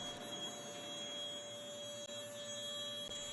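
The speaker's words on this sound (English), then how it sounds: "Then he uses a vacuum pump to remove the excess, which is caught in a bottle to be reused." A vacuum pump drawing excess glue out of wooden pipe organ channels in an organ-building workshop gives off a steady, continuous whir with a faint whine. It runs evenly and alone throughout, with no talk.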